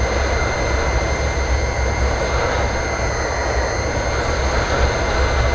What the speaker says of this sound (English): when you go fast, it literally sounds like a jet engine.